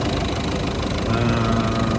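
A Peugeot 508 engine idles steadily at close range, a continuous low rumble with a faint mechanical tick, holding an even level throughout with no voices.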